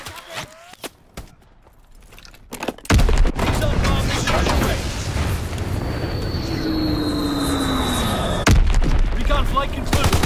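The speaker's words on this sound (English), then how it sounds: "Enemy bomb incoming." Incoming enemy bombs explode in Call of Duty WWII, with a couple of sharp booms at first followed by a sustained heavy roar of blasts and rumble, a descending whistle and further loud impacts.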